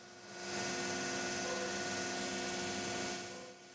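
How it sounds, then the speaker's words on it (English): ShopBot CNC machine drilling hinge holes in wooden cabinet side panels: a steady, loud whine with a tonal hum rises and holds for about three seconds, then tapers off. "We'll be drilling 4 sets of hinge holes on 2 separate side panels."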